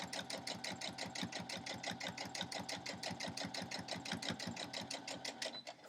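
Sewing machine stitching a quilt block along a straight edge in quilt-as-you-go piecing, a steady rapid needle rhythm running continuously and close up for the whole stretch, with no talk.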